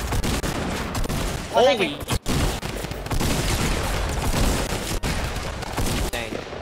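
Shotgun blasts in the video game Fortnite, a couple of sharp heavy bursts among continuous game noise, loud and close, with a player shouting over them.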